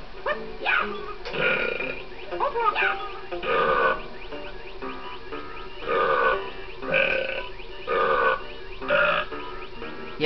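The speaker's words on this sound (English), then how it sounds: "You burping like Chunky." Burps in Donkey Kong 64 sound in a regular series, about six loud, throaty belches spaced roughly a second apart over a faint game background.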